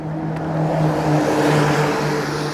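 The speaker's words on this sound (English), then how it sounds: "Sounds like a bus coming down the road." A bus rolls down a road in the early pre-dawn, its engine a steady low drone with a tonal hum that builds and holds at moderate distance, with no voices.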